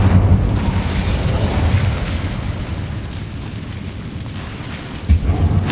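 A fire spell blast in the Hogwarts Legacy video game: a loud, roaring, rumbling burst that sustains throughout, with a sharper boom flaring near the end.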